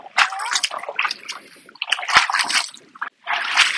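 Footsteps wading into shallow, calm sea water at a sandy beach in Budai, Chiayi, Taiwan, with close splashes and sloshing in irregular bursts.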